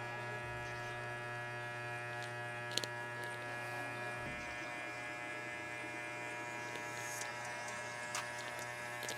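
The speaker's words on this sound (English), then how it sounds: "I'm gonna go ahead and use my half guard, and we're gonna leave the lever in that 3/4 position" Electric hair clippers with a half guard fitted and the lever at the three-quarter position buzz steadily while cutting a mid fade, a close, even motor whine with a few faint clicks and no talking.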